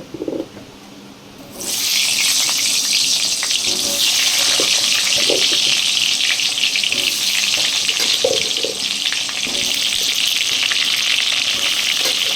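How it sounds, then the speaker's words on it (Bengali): Potatoes drop into hot oil in a wok, and after a short quiet start a loud, steady sizzling hiss sets in and holds for the rest, with faint clinks underneath. "কড়াইতে তেল দিয়ে দিয়েছি, এবার আলুগুলো দিয়ে একটু ভেজে নেব।"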